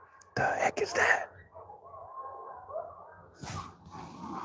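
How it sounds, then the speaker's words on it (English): Wolves or coyotes out in the dark at night give wailing, wavering howls mixed with sharp yelps and bursts of noise, fairly distant, with a voice briefly audible nearby. "Sounds like wolves or coyotes."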